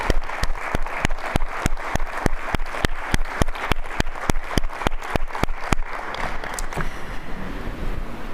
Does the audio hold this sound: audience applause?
yes